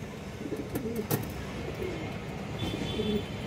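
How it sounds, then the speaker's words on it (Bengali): A male Pankhi pigeon coos softly in a cage, its low throaty calls repeating a few times against a steady background hiss, with faint chirps from other birds nearby. "একটা পাঙ্কি নর কবুতর"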